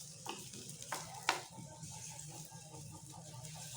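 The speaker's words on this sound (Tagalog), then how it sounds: "Una natin gisa yung sibuyas." Onions sauté in a pan for chicken adobo, a soft continuous sizzle with a few brief stirring scrapes near the start, fairly quiet and without talk.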